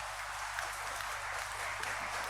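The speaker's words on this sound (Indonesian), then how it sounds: "kita memberikan tepuk tangan untuk menyambut mereka bersama" A church congregation at an Easter service claps together to welcome newly baptized members. The applause is continuous and evenly dense, filling the whole moment with no voices above it.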